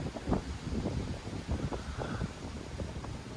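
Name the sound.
strong wind blowing outdoors at old airfield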